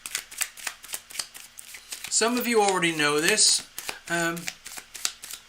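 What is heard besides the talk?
tarot cards being shuffled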